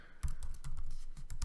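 Quick bursts of keystrokes on a computer keyboard as a web link is typed in, close and fairly loud, in an uneven typing rhythm with brief pauses.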